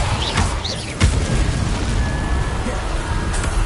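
Confringo and Incendio fire spell blasts in Hogwarts Legacy, a loud dense roar of booming bursts and crackling flames with a sharp impact near one second, continuous over the whole clip.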